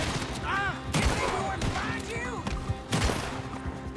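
Rapid gunfire volleys crack through a Red Dead Redemption 2 shootout in several loud bursts, with voices and other game sounds running underneath.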